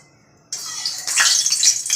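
Lentil dumplings (bori) hit hot oil that a damp spatula sets spluttering, with a sudden hissing sizzle that swells into close, bright crackling and popping, with no speech.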